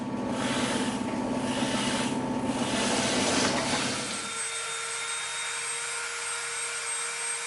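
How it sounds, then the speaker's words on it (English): A loud, rough grinding drone of a drill press boring into EVA foam runs for about four seconds, then cuts to a lower steady hum with a high whine. "We're going to go over to the drill press, and now we're going to pop those two little holes out."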